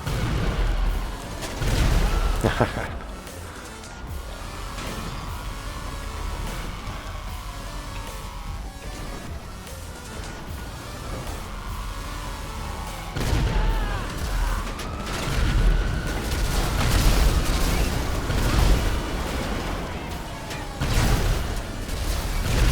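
A TM-02 Khanjali tank fires its cannon in Grand Theft Auto, a few heavy booms spaced several seconds apart over a continuous mechanical rumble and whining turret movement, with distant crackling fire around it.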